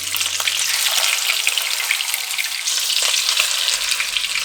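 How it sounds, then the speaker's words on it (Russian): Chicken cutlets fry in a hot frying pan until golden-crusted, with a loud, steady sizzle and crackle that continues throughout, with a few light clinks now and then. "На сковородке котлеты жарятся очень быстро"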